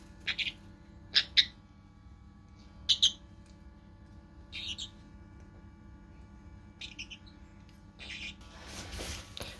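Short high chirps and squeaks from baby Senegal parrots during hand feeding come in scattered bursts, a few close together, over a steady low hum.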